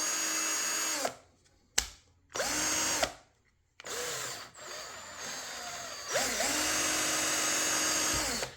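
A Brookstone 21V cordless power drill whirs in several bursts, starting and stopping with short pauses, then runs steadily for a longer stretch; loud and close.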